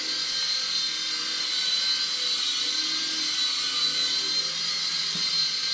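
A Hornet mini RC helicopter hovers at quarter throttle, its small rotor and motor giving a steady high-pitched whine and buzz, close and constant throughout with no talking.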